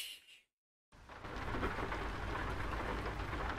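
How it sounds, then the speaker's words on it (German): Rain in the driving game Euro Truck Simulator 2 sets in after a short silence as a loud, steady hiss of drops drumming on the truck, with a low rumble underneath. "Und es regnet direkt."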